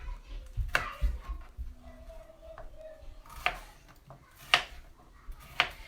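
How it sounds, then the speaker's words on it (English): Several sharp knife chops on a cutting board as peppers are chopped, spaced irregularly, with quiet handling noises and a faint tone between strikes. "I'm just chopping it up."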